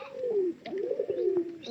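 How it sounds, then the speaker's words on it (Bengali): Male pigeons coo in a cage, a run of low, rolling calls that rise and fall close by, with a short pause partway through and faint chirps around them. "যেগুলো পায়রা ওগুলো কিন্তু ডাক সবচেয়ে বেশি ডাকতেছে"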